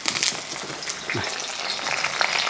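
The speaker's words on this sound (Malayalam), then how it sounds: "ഈ മുളക് കരിയാപ്പലയും ഇഞ്ചിയൊക്കെ ഒന്ന് വറുത്തെടുക്കുക" Chilli, ginger and curry leaves fry in hot oil for a mango chutney, giving a steady close crackling sizzle with small pops and the odd stir throughout.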